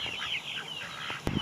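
Turkeys on a farm cluck in a busy, continuous chatter of overlapping calls, fairly close, with a sharp knock near the end.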